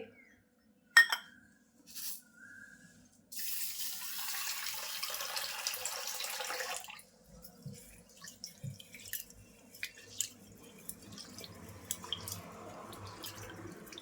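Fragrant rice is washed by hand in water, with small clinks and drips at first, then a few seconds of running water, followed by soft sloshing and scattered droplets close by.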